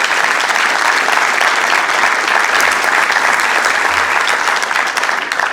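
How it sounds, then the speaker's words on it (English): Sustained loud applause from an audience at a Sacramento city council meeting, steady dense clapping filling the whole stretch with no break. "Let's give Ben a big round of applause"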